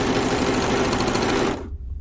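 A serger sewing a 3-thread serge on knit fabric runs in a fast, steady mechanical whir close up, then stops abruptly near the end.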